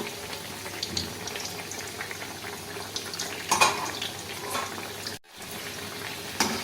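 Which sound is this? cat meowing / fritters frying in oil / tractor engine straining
fritters frying in oil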